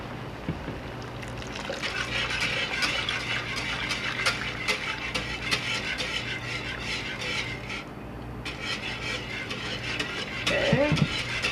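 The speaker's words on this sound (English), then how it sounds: "Okay, so keep stirring." A boiling sugar mixture being stirred in a pot, with a steady rushing, bubbling hiss and soft scraping strokes running continuously throughout, close by, with a brief thump near the end.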